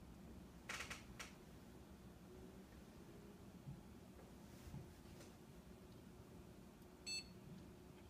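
A computer beeps once during a reboot after a graphics card upgrade on a quirky motherboard, a short electronic tone near the end over a soft fan hum, with a few faint clicks earlier.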